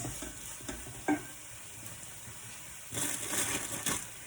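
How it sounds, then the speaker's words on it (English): Vegetables for Thai green curry frying over high heat in a pan, a low steady sizzle with a sharp clink near the start, then a louder burst of stirring and scraping toward the end, no voices. "So now in your pan, you've got everything cooking at a high heat."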